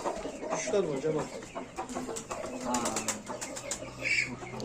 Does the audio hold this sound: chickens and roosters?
yes